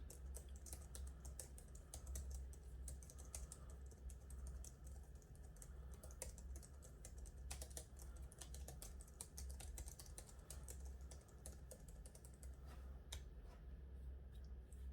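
Quiet, steady typing on a Logitech MX Keys for Mac low-profile, non-mechanical keyboard, soft rapid key clicks continuing throughout over a low background hum.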